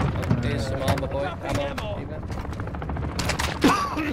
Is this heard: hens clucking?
no